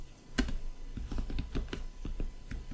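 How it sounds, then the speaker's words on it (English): Computer keyboard typing in a series of crisp, irregular key clicks over about three seconds, close and fairly quiet, with no talking. "Don't look it up because you're typing."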